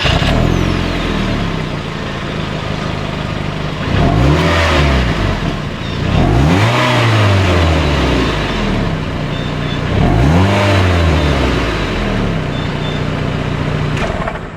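A Mazda Miata's engine revs repeatedly while driving, rising and falling in three strong sweeps over a steady, loud drone from inside the car.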